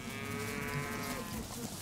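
Cattle lowing on a farm where cows are herded from behind, a steady low moo carrying through the whole short stretch at moderate volume, with no talk over it.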